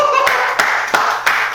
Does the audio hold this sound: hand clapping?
yes